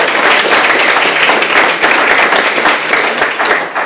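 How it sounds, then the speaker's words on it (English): An audience applauds panelists at an evening humanities talk event on urban planning, with dense, steady clapping filling the room throughout and no talk over it. "Let's give all of our panelists some applause."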